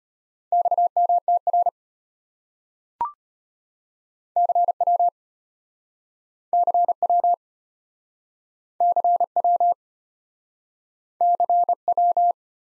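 Morse code CW at 25 words per minute sounds as clean, single-pitch tone bursts of dots and dashes in short groups, separated by silent gaps, with a lone click partway through.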